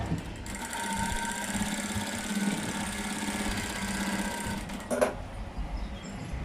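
A sewing machine stitching a blouse runs steadily with a continuous whirring hum for most of the span, then stops abruptly near the end, followed by a brief handling clatter.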